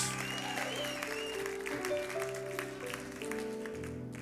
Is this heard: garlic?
no